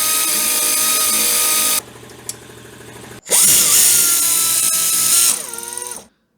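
Power tool cutting off worn sway bar end links on a Jeep Cherokee XJ: a loud, steady high-pitched whine, a brief drop to lower running, then a rising screech that winds down and stops.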